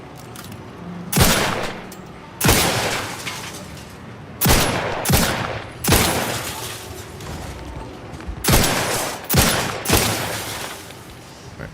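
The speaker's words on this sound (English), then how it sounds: "That explosive rounds." Explosive rounds firing during combat in The Outer Worlds 2, a series of about eight loud, sharp blasts at irregular intervals, each followed by a short rumbling decay, with no voices over them.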